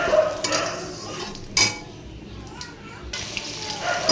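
Potatoes frying in hot oil with panch phoron, bay leaf and dried chilli, alongside aubergine, give a steady close sizzle with brief clatters from a stirring utensil against the pan.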